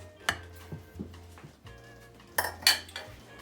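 Ladle scoops of pozole verde broth bring loud clinks and clatters of pots and metal utensils, with sharp bright strikes near the start and a cluster of ringing clanks late, over a steady low kitchen hum.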